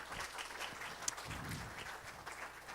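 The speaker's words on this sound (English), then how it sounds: "One more round of applause, please" An audience applauds after a lecture, giving steady, fairly faint clapping with a few brief voices.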